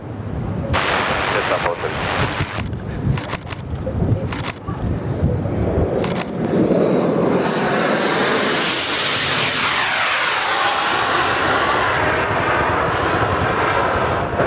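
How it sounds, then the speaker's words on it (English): A C-17A Globemaster from RAAF Base Amberley passes overhead at RAAF Williamtown. Its engines rise from a distant rumble to a loud, sustained roar, with a camera shutter firing in rapid bursts and people talking early on. "Number 36 Squadron operates the C-17A Globemaster from RAAF Base Amberley."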